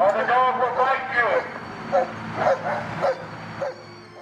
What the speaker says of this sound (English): Come out with your hands up, or the dog will bite you.